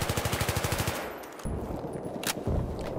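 Rapid automatic fire from an AUG assault rifle in Battlefield 3, a fast even burst of shots for about a second, then a pause before further gunfire and impacts follow, loud and close.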